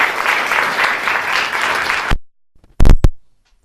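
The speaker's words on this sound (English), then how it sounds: "So let's give him a round of applause." A seminar audience gives a speaker a dense round of applause for about two seconds. It stops abruptly, followed by silence and a couple of brief sounds.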